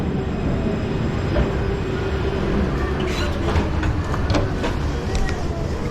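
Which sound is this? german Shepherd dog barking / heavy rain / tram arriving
tram arriving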